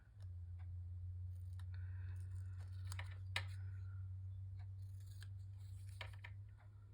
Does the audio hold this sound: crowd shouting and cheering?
no